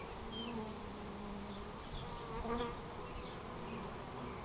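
Honey bees from a newly hived swarm buzz densely and steadily around open hive frames during an inspection, a close, continuous drone with individual bees passing near.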